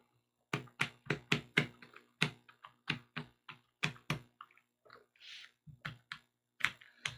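Cardboard tokens punched out of a board game sheet, a quick series of sharp close taps and pops in irregular bursts with short pauses, then softer rustling and scraping between the snaps.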